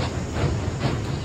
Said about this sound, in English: Oh. I'll board the train.